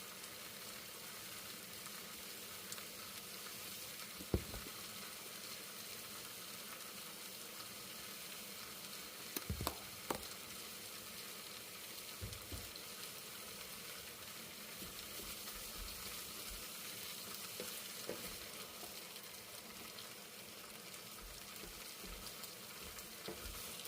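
Seasoned ground beef for taco filling frying in a pan makes a quiet, even sizzle throughout, broken by a few scattered knocks from the pan or spoon.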